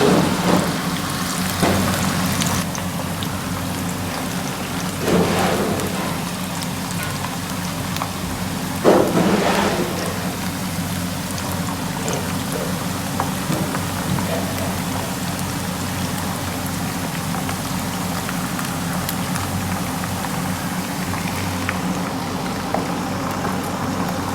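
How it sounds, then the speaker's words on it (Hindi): Snack pieces deep-frying in oil over a low flame, a steady dense crackling hiss like heavy rain with a few louder bursts of spatter near the start and middle, continuous throughout with no talking. "जी तो नाज़रीन ये फ्राई हो रही हैं"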